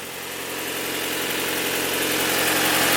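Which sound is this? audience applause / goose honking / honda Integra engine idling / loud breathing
honda Integra engine idling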